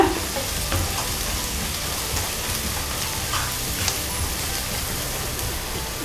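Fish curry masala with chilli powder being stirred in a hot pan, a dense steady sizzle with faint scraping of the spoon, close and continuous with no speech.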